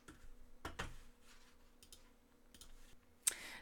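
A few faint mouse clicks sound against a quiet room hum, isolated sharp ticks spaced irregularly, with one brighter click near the end and no talking.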